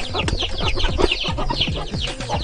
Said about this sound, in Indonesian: itu sekilas tentang peternakan ayam yang dikelola oleh Karang Taruna Boyu Asih